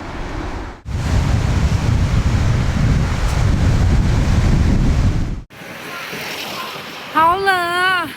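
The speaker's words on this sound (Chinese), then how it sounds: "它明明是个湖，可是呢，它有海浪，它有湖浪，它的浪特别大，而且就像海一样。" Big waves on Lake Biwa in strong wind, a loud roaring rush of surf and gusting wind buffeting the microphone close up, cutting out briefly, followed by quieter water and a short burst of talk.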